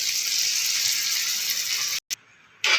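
Water poured into a pan of mutton spleen fry with salt, turmeric, chilli and coriander powder, a steady hissing gush for about two seconds that cuts off abruptly, followed by a brief clatter and a short burst of sizzle.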